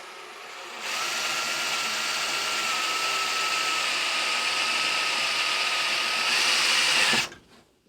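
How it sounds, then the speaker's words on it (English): A power drill bores into a scrap piece of sacrificial wood on a workbench during a lawnmower repair, a steady loud whine running for several seconds before cutting off. "Let's see if we can find a sacrificial piece of wood instead of drilling into our bench."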